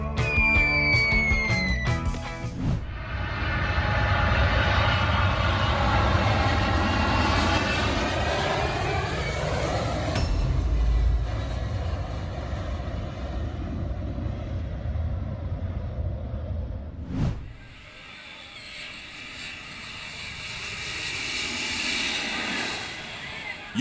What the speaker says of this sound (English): You might want to duck a little when a plane gets this close.